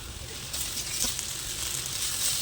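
Potatoes with onion and green chilli frying in a pan, a steady soft sizzle with faint scraping, close and continuous with no talking.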